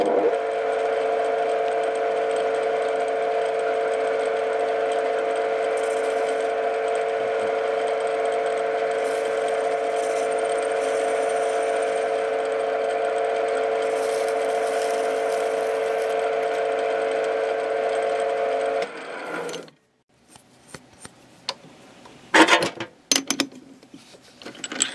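Small lathe spinning at its lowest available speed while drilling a hole in a homemade everlasting match, a steady humming motor whine for about twenty seconds, then cutting off into scattered clicks and knocks.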